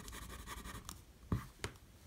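Medium Lamy fountain pen nib writing on paper, a faint close scratchy glide with a couple of short stroke taps.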